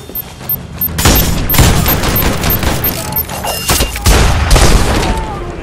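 Loud explosive charge blasts in The Expendables 2 game at a harbor side, a big boom near one second and another around four seconds, with crackling debris and gunfire-like bursts rolling between them.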